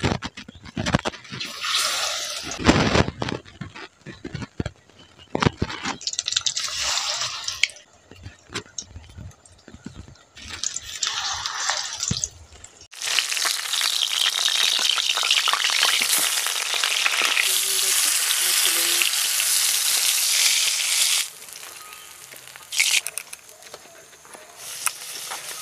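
More bottle gourd leaf parcels with small fish filling fry in oil, starting with intermittent hissing bursts and clatter, then settling into a loud, continuous close sizzle that eases slightly near the end.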